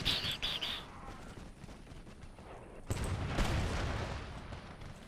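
Musket volley fire in an Empire Total War battle, a sharp burst of shots followed by sustained rumbling gunfire over a busy battlefield din, with faint bird chirps at the start.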